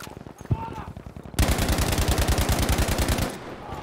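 Rapid automatic gunfire from Battlefield V in first-person combat, a dense burst of about two seconds that cuts in sharply and loud after quieter ambient game noise and a single earlier shot.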